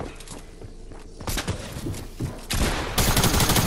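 Video game gunfire crackles in rapid bursts, sharp close shots clustering into louder volleys toward the end, with thumping impacts between them.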